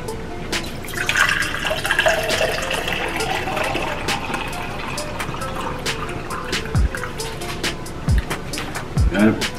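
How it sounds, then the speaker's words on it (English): Cold pink lemonade poured into a glass, a continuous liquid trickle and splash with occasional drips, heard under nearby talking and background noise at a seafood boil. "Let me pull me some of this cold pink lemonade. I'm gonna let y'all see me pour it."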